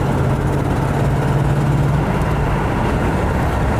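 A deep, steady V8 engine rumble from a 1990 Land Rover Discovery with a blowing exhaust, giving a rough, raspy exhaust note, running continuously and loud throughout.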